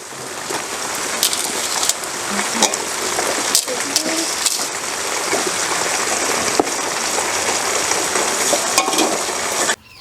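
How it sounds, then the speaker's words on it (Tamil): Tomatoes tipped into onions frying in a pot for village-style duck meat gravy, cooked outdoors in heavy rain, giving a dense continuous hiss and sizzle with occasional stirring knocks, close and steady. "இப்போ தக்காளி போட போகிறோம்"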